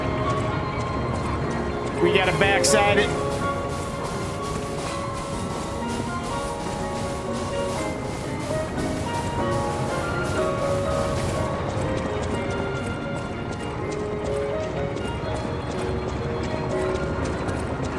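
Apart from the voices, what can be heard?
horses clip-clopping in video game Lies of P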